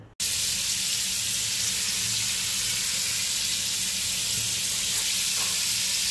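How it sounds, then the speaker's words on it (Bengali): Marinated basa fish fries in white oil with butter, giving a loud, constant sizzle up close that starts suddenly after a short pause and holds steady throughout. "একটুখানি হোয়াইট অয়েল, তার সাথে একটুখানি বাটার। এটা গরম হলে এগুলোকে ফ্রাই করব।"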